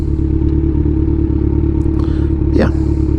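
A 2016 Kawasaki Ninja 1000 with a full system exhaust rides along, its engine holding a steady, loud pulsing drone with wind noise, while a rider's voice rises briefly near the end.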